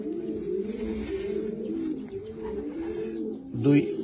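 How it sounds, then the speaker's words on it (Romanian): Racing pigeons coo in a loft in Caracal, Olt county, Romania, with repeated low throaty coos rolling over one another close by and a louder burst near the end. "să vă prezint porumbei reprezentative ai mei din ultimul timp"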